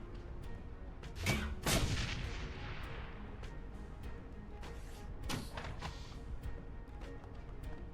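Grenade explosions and gunfire ring out during combat in Shadowrun: Hong Kong, with two strong bursts early on and another later, surrounded by scattered sharp shots at moderate, fairly distant loudness.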